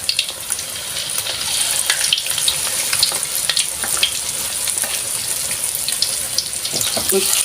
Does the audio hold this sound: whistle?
no